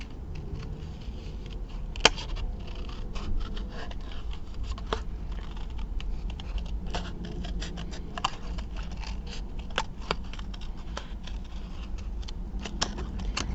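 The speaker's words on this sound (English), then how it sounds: "I've got something sticky on these scissors." Scissors snip through paper during a craft session, giving a close, steady run of small crisp cuts and rustling scrapes with occasional sharper clicks and no talking.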